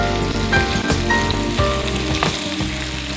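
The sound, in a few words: boiled potatoes and carrots frying in a pan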